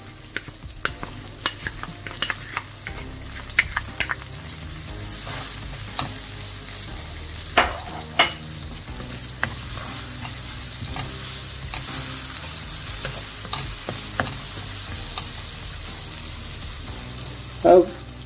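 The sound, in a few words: spring onion and garlic frying in pan for vegan lasagna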